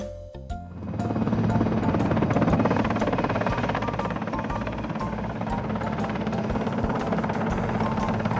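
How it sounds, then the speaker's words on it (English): A toy army transport helicopter plays its sound effect, a loud, steady whirring rotor and engine roar that starts abruptly and holds evenly to the end. "Army Transport Helicopter."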